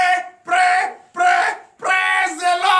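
A church congregation at a night deliverance service in Comè, Benin, shouts in acclamation in four loud, close bursts separated by short pauses, the last one longer and more ragged.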